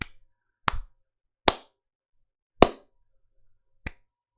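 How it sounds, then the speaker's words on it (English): A few single hand claps ring out, five sharp, separate smacks spaced unevenly over a few seconds against silence. "Let's give a clap for everyone who joined in."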